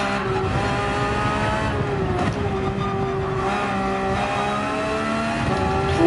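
New Porsche 911 GT3 RS racing engine in Gran Turismo 7 at the Red Bull Ring, a loud, close, steady high-revving whine that rises and shifts pitch through gear changes, with faint tire noise and no talking.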